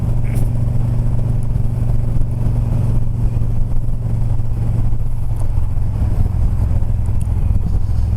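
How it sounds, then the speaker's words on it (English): Traffic passes on a Los Angeles street near the 105 freeway, giving a constant broad roar of car engines and tyres that holds steady throughout without any voices. "Look at the traffic on that side."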